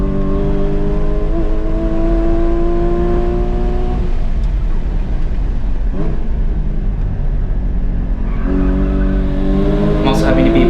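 A Porsche GT4 of the 981 generation slides and skates across a downhill stretch of an autocross course, its engine droning loud and steady throughout, with tyre scrub and wheelspin noise and a brief dip in the middle.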